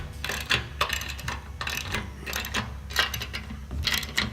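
A ratchet fastens down the foot of a 54-inch cast-iron roll-top bathtub, producing short bursts of sharp metallic clicking in an uneven rhythm, close and fairly quiet.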